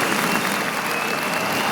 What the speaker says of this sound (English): I'm hitting that button over and over again. The applause is still coming.